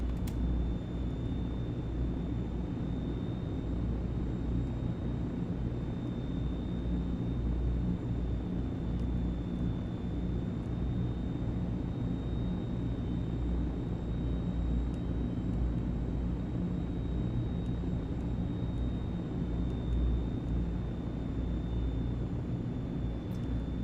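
A fixed-wing aircraft lands rough and slow in Microsoft Flight Simulator 2024, a steady loud engine drone and low rumble running unbroken throughout with a thin high whine on top.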